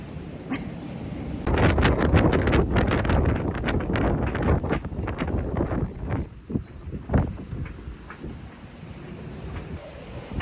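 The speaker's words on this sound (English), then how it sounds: "I don't even know if you can hear me over the wind." Strong wind gusts buffet a 44-foot sailboat moored off Baja, roaring loudly and unevenly across the microphone in heavy rumbling bursts that ease and swell.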